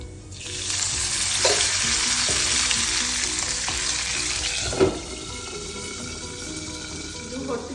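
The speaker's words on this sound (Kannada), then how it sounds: "ಸ್ವಲ್ಪ ಎಣ್ಣೆ ಹಾಕಿ ಹುರ್ಕೊಳ್ಳೋಣ." Green chillies and onion fry in a little oil in a pan, giving a loud, close, steady sizzle with a couple of clinks from stirring before the hiss dies back.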